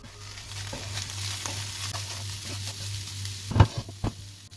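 Corn fries in a pan with a continuous sizzle, close by. A spoon scrapes and stirs through it, and a few louder clacks come near the end.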